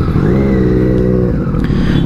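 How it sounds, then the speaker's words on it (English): A Ducati Monster 821 motorcycle runs close by with a loud, steady engine drone that rises slightly in pitch, briefly easing before holding on. "this time I'm riding the beautiful Monster 821 of Saurav"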